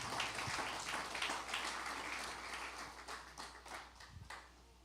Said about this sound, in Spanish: Dale un aplauso a Cristo Jesús.